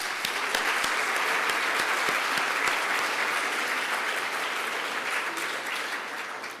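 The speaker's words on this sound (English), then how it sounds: "Let's give Allie a round of applause." Sustained audience applause fills an awards ceremony hall, a dense steady clatter of many hands that holds loud and even throughout, easing only slightly near the end, with no talking over it.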